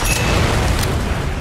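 A loud, sustained boom from a video game explosion at a rum distillery, with deep low rumble filling the whole moment and a brief crackling burst near the start.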